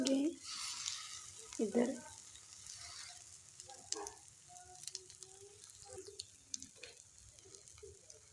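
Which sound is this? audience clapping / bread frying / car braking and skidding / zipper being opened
bread frying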